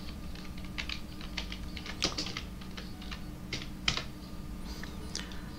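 Someone types on a computer keyboard, giving irregular bursts of close key clicks with a few sharper taps over a low background hum, with no talking.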